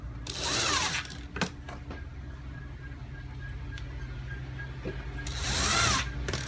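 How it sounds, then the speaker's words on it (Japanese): A power driver sinks stainless steel screws into plywood for a DIY kei-truck camper roof, two loud whirring bursts at the start and end separated by quiet handling noises and faint clicks. "で、普通のステンレスのビスで止めます。"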